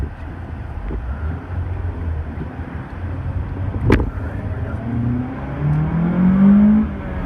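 A 2014 Mitsubishi Lancer ES engine revs and accelerates, rising in pitch toward the end, with a sharp knock midway and wind buffeting the microphone.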